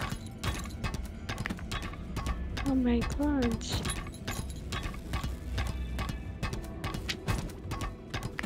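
A horse gallops in the video game Lost Ark, a steady run of hoof clops under game music with a voice speaking over it.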